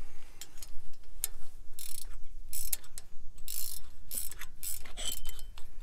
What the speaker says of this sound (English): hand tighten them up and then just snug them with the ratchet